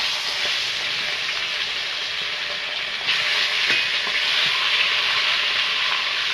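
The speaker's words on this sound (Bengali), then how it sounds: "তেলটা গরম হয়ে গেছে মাছটা ভেজে নেব" Hot oil sizzles and crackles continuously as fish coated in salt and turmeric fries in a pan, a loud, steady hiss close by, with no talking.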